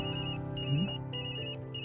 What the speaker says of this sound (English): Then that's my work phone.